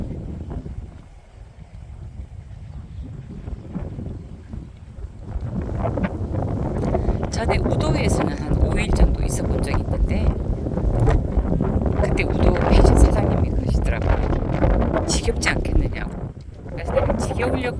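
Strong wind buffets the microphone on Marado island, a small island ringed by fences, in loud gusty rumbles that build and roar. A person speaks faintly underneath.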